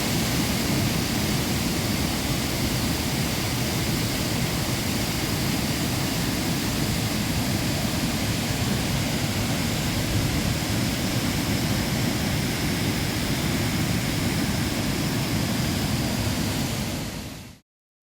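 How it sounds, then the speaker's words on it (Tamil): Water roars down the Courtallam waterfalls after heavy rain, a loud, dense and continuous rushing wash that holds steady throughout and then cuts off abruptly. "அருவிகளில் தண்ணீர் ஆர்ப்பரித்து கொட்டுகிறது"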